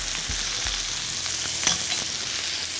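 Pork-wrapped asparagus simmering in sauce in a pan gives a steady, close frying hiss with a few soft bubbling pops and light stirring knocks, with no voices.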